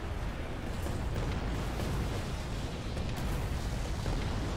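A base blows up in the strategy game Homeworld: Deserts of Kharak. A loud, continuous roar of blasts and rumble fills the whole stretch without letting up.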